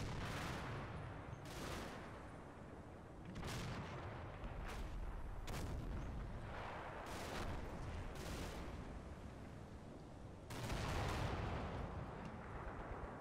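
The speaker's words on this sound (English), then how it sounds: "there's the cannon going" A tank cannon fires in a war video game, probably a World War II tank battle involving a Panther and a Hellcat. Repeated heavy booming shots at uneven intervals stand over dense, continuous battle rumble.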